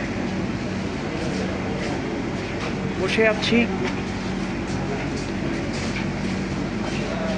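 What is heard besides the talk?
inside a metro rail train in Dhaka waiting to depart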